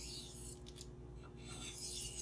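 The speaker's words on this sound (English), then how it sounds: "So to minimize the burr, all I'm doing is light back and forth passes" A knife of CPM-4V steel is sharpened with light back-and-forth strokes, soft rasping swishes repeating close up over a low steady hum.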